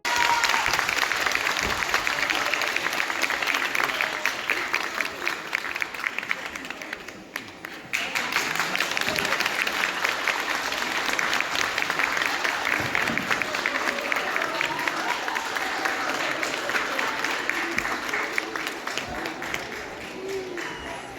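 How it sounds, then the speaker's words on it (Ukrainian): A concert hall audience at a charity student concert in Pryluky claps loudly in a sustained, dense round of applause, dipping briefly partway then swelling again and continuing to the end. "із залу повсякчас звучать гучні оплески"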